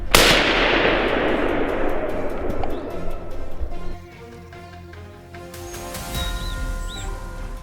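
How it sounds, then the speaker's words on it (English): A single sharp gunshot aimed at a wild boar in a forest cracks loud and close at the start, then its echo rolls away through the trees, with faint bird calls afterward. "A sharp gunshot rang through the forest"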